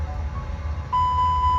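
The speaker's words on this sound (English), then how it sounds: "We now test the fire alarms on overhead" An Airbus A319 engine 1 fire alarm sounds in X-Plane 12 during an overhead panel test, a steady electronic tone that cuts in sharply partway through over a low cockpit hum.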